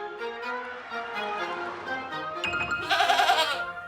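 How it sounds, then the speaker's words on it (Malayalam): A cartoon lamb bleats in several quavering cries that grow louder and brighter toward the end, set against light animated-show sound effects, with no speech. "ഈ ആട്ടിൻകുട്ടി എന്റെ പുറകിലാണല്ലോ വരുന്നത്."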